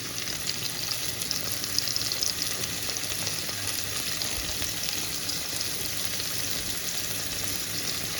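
Mushrooms saute in a frying pan with a constant close, bright sizzle and crackle that holds steady throughout, no talking.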